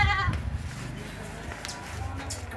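A bleat opens the clip, close and fairly loud, from one of the purebred farm goats, with low rumbling background noise and faint talk after it.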